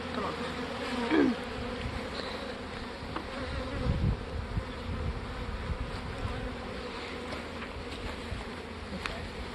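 Honeybees buzz around a hive with swarm cells, a faint, steady hum with a few individual bees passing close, one louder buzz early on and another around the middle.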